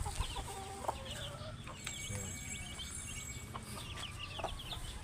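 Breeding chickens on a small backyard farm cluck and chirp softly in scattered bursts over a steady low background hum, sounding somewhat distant, with no talking.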